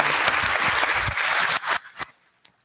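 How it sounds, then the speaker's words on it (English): Dense crowd applause at a municipal election candidates forum in Cold Lake, fading out, with the last few scattered claps trailing off into near silence. "So I'd like to give them a big round of applause if we could."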